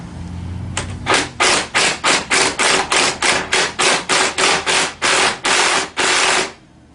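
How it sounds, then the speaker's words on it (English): Ratchet tightening a nut on the steering column of a Tao Tao CY50D scooter; a loud, close run of about fifteen evenly spaced rasping clicks, steady and rhythmic, ending abruptly. "Once I get close to having it all the way ratcheted shut"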